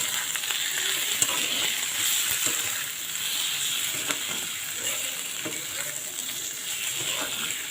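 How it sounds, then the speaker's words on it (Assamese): Cumin powder, salt, turmeric, red chilli, chicken masala and garam masala fry in a pan for papad curry, giving a steady close hiss and sizzle with occasional stirring scrapes. There is no talk, and the sound holds level throughout. "এতিয়া মই এইখিনি ভাজিম অলপ"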